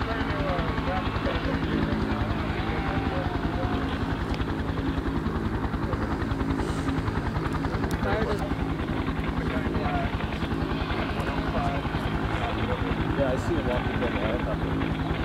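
Steady helicopter rotor thump and engine drone from an aircraft flying over a vegetation fire near homes in Solana Beach, continuous and fairly loud with wind buffeting throughout.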